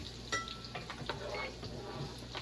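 Vegetables sauté in a pan with a steady, dense sizzle and small scattered ticks and pops. The sound runs continuously at moderate loudness with no voices.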